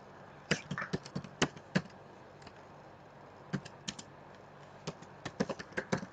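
Typing on a computer keyboard while entering quiz answers in a spreadsheet, heard as bursts of quick clicking keystrokes with short pauses between groups, close and fairly quiet, with no talking.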